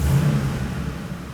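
A 2009-2014 Ford F-150 engine revs steadily up close, a continuous low mid-pitched drone that eases off slightly toward the end, with no talking.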